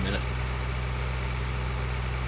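Tractor engine idling steadily in a farming simulator on a South Dakota farm map, a low constant rumble with a faint hum running unchanged throughout, with no talk over it.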